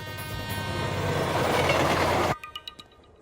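In a film scene, a loud, steady rumble of a train rolling past up close cuts off abruptly, leaving a few fading clanks and rattles.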